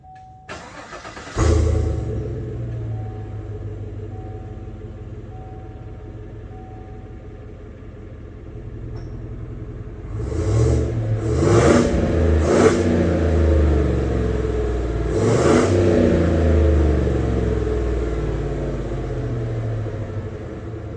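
A Chevrolet Tahoe with a muffler delete cranks and catches into a deep idle, then takes several sharp throttle blips that swell and settle over a steady, throaty rumble, recorded close at the tailpipe.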